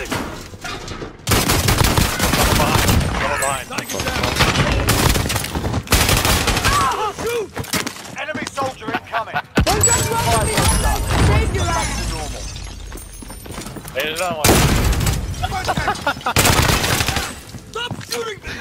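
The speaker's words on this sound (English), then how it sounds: "Stop shooting me!" Heavy gunfire in the video game Call of Duty Warzone comes in loud bursts of rapid automatic shots with short pauses between them. Players shout over it.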